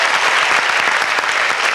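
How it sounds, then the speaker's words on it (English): Audience applause at the California State Fair: dense, steady clapping from a large crowd, loud and sustained throughout with no pauses. "I think you should give yourselves a round of applause for that."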